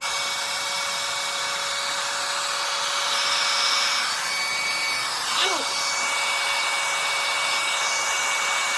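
A hair dryer blows with a steady, close-up whirring hiss, its pitch shifting slightly as it moves, with no talking.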